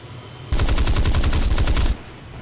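Sea Meteor F3 cannons fire a single sustained burst of rapid gunfire lasting under two seconds, loud and close, at a MiG-9 during a War Thunder dogfight, with no voices.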